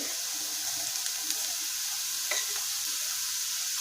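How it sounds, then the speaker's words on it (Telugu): Onions fry in a pan for a ridge gourd egg fry, giving a constant bright sizzle with a few scraping stirs near the middle and no speech. "ఉల్లిపాయలు బాగా ఫ్రై అయ్యాయండి"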